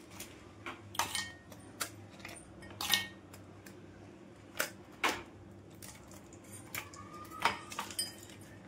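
Ice cubes drop into a glass for a nannari summer drink, a series of sharp, close clinks and taps scattered irregularly over several seconds against a faint steady hum.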